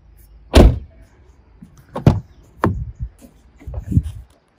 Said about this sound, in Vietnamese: Tiếng đóng cửa xe rất là chắc này